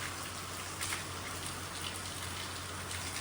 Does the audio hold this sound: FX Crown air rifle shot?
no